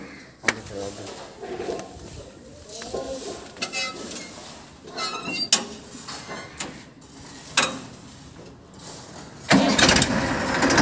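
A 2001 Massey Ferguson 1035 DI tractor engine cranks and starts outdoors, with scattered knocks and revs that rise into a loud running roar at the end, alongside birds and people talking.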